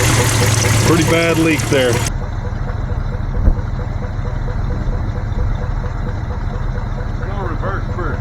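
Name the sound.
Chevy C20 engine idling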